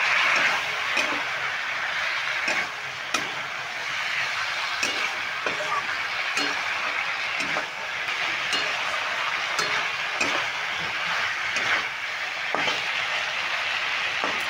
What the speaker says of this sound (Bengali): কপিটা দিয়েও আমি ভালো করে মশলার সঙ্গে কষিয়ে নিচ্ছি